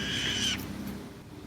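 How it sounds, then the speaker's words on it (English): A hawk flying above a backyard garden gives a shrill, high, drawn-out cry, fairly clear, followed by quieter outdoor background noise. "there's a hawk flying over there"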